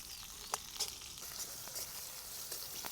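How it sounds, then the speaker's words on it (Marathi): Green chillies roasting in a pan for a brinjal thecha, a faint continuous sizzle broken by sharp spitting pops and crackles at irregular intervals. "मिरच्या चांगल्या भाजत आल्या."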